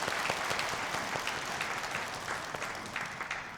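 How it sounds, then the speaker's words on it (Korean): A church congregation applauding during a Sunday worship service, dense, even clapping from many hands sustained throughout at moderate distance, with no clear talk over it. "하나님께 영광의 박수 올려드리겠습니다."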